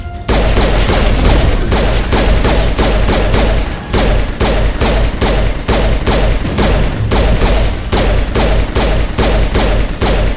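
Rapid, sustained gunfire from the video game Mass Effect fills the whole stretch, dense volleys of loud shots with a brief lull near the four-second mark, no talk over it.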